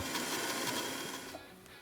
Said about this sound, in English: Now grind that down into a nice puree.